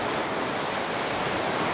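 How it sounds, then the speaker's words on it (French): Ocean waves break on the coast on a sunny day with small swell, heard as a steady, dense wash of surf noise with no pauses and no voices. "seulement aujourd'hui les vagues c'est pas de la grosse vague"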